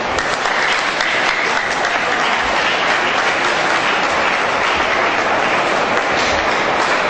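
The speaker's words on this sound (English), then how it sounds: "Another round of applause." An audience applauds after a lecture on grants sourcing and funds management. Dense, loud clapping holds steady from start to end, with no pause and no voices standing out.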